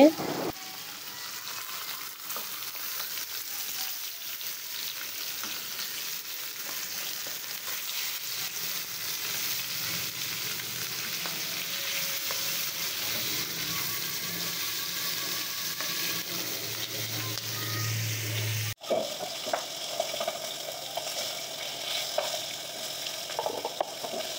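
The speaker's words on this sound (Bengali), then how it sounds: "আর এখানে মাছ ভাজি হচ্ছে।" Fish sizzles steadily in oil in a kadai, a continuous crackling fry throughout that briefly changes texture near the end, with light kitchen clatter and no talk.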